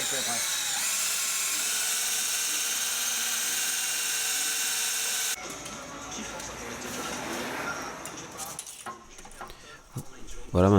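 A drill bit fitted with a depth stop whines at high speed for several seconds while boring holes during compressor work on a Dodge Challenger, then gives way to lower rattling and handling noises close by.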